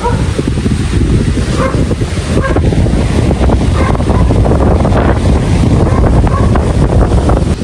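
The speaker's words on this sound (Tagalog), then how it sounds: "Oh, lakas ng hangin." Strong, steady wind roars and buffets the microphone without letup, loud and close, among banana plants, with no other sounds standing out.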